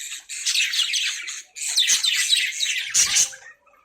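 Budgies in a cage chirp and chatter in dense, bright bursts, with a brief gap and a soft clatter near the end.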